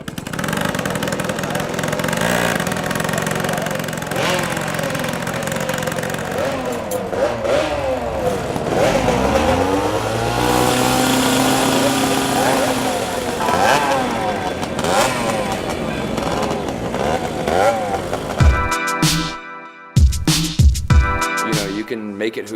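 A moped engine revs and idles up close, a steady mid-pitched buzz rising and falling through several throttle blips, then sputters choppily near the end.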